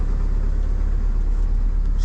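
A cold car engine idling just after preheat, a steady close low rumble throughout with no voices over it.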